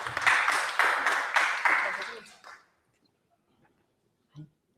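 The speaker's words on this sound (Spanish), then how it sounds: "Un aplauso también para ella." A short burst of audience applause at a presentation event, several rhythmic waves of clapping that fade out after a couple of seconds into near silence, followed by a faint thump.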